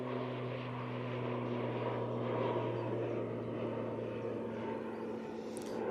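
An ATR turboprop at Manchester Airport passes with a steady propeller drone, strong low humming tones over a broad engine whoosh, moderately distant and continuous with no talking.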